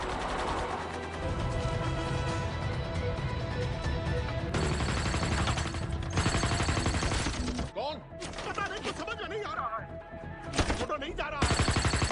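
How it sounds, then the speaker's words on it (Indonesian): Gunfire in a film battle between Syrian soldiers and militia fighters, rapid dense bursts of shots over tense music, fading into scattered impacts and clatter, with talk over part of it. "Lalu terjadilah baku tembak dengan tentara Syria dan anggota Laskar."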